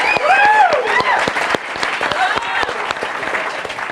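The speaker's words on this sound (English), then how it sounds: "So let's give him a round of applause for that" An audience claps for a former college and pro football player at a Harvard innovation lab talk, the applause dense at first, then sparse claps and voices as it fades.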